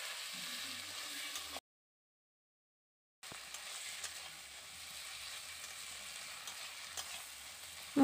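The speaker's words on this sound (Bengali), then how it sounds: "এবার সমস্ত উপকরণগুলোকে ভালো করে তেলের মধ্যে কষিয়ে নিতে হবে" Chilli powder, turmeric and salt frying in oil, a soft steady sizzle with light stirring, broken by a short stretch of silence before it resumes.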